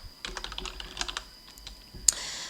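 Typing on a computer keyboard while entering data into a spreadsheet cell, a quick run of close, light key clicks with irregular rhythm, ending in one sharper, louder keystroke like an Enter press.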